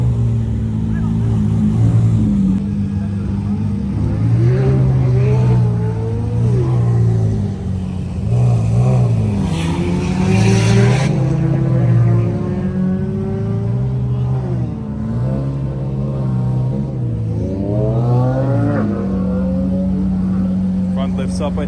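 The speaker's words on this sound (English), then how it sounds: "Let's watch the cars leave." Cars pull away one after another from a car show, engines rumbling and revving past at close range with rising acceleration sweeps, while people talk throughout over the engine noise.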